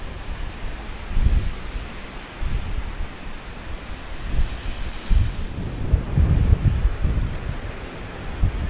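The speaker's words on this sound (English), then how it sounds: "This is the River Tay," The River Tay flowing past a footpath, a continuous rushing wash of water heavily buffeted by gusts of wind against the microphone, swelling and easing in waves.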